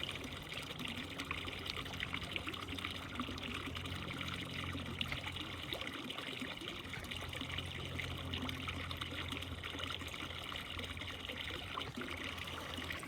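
Water runs steadily as a continuous faint hiss and trickle that stays unbroken for the whole stretch, with no talking over it.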